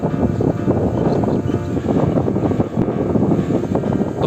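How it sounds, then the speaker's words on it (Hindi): Strong gusting wind before a storm in an old village, a loud steady roar with rumbling low buffeting across the microphone, swelling and dipping slightly but never letting up, with no voices. "कोई 1 मिनट से मैं सुन रहा हूँ आवाज़ आ रही है, हवा की तेज़ आवाज़"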